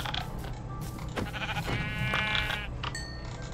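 Sheep bleating in a hardcore survival video game, a wavering bleat with clear harmonics near the middle of the clip over a steady game background, loud and close with no talking.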